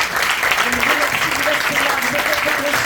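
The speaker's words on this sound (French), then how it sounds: "Peut-être peut-on applaudir encore une fois." An audience at the French development agency in Paris claps together in a dense, sustained round while voices carry on over and under the applause.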